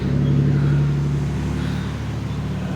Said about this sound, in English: More traffic pulling into the church.